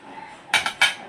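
Masala spices being mixed onto fish, heard as a few sharp metallic clinks of a utensil against a dish in quick succession, close and clear against a quiet background.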